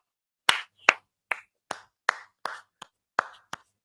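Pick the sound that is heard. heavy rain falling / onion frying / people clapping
people clapping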